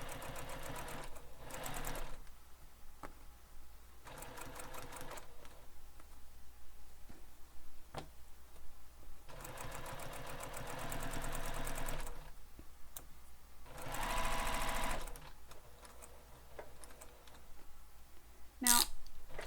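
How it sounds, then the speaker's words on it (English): A sewing machine stitches around a drawn rectangle on fabric for a crossbody bag, quiet rapid whirring in several bursts with brief pauses and clicks between runs. "So now we're going to sew around this entire box that we drew."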